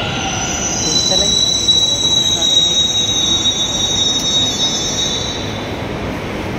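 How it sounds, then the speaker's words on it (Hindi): Delhi Metro Pink Line train running, a loud close rolling rumble with a high, thin wheel squeal drawn out over several seconds, swelling and then easing. "पिंक लाइन के साथ साथ मेट्रो भी पिंक है"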